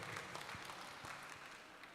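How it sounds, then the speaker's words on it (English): Audience clapping at a community hall meeting, a quiet, steady patter of many hands without a break. "give me a round of applause, please"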